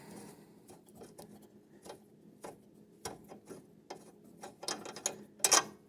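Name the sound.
ratcheting wrench loosening a riding mower deck bolt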